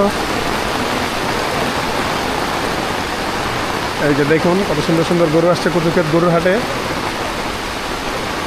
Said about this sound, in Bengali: যেহেতু প্রচণ্ড বৃষ্টি হচ্ছে